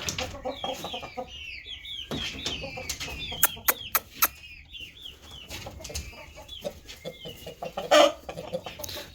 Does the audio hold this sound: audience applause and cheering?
no